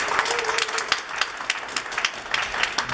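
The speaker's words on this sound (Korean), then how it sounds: "지금부터 여러분들의 큰 박수로 토론을 시작하도록 하겠습니다" Audience applause at the opening of a community debate forum on IT and village activism, a steady patter of many hands clapping indoors for a few seconds with no talk over it.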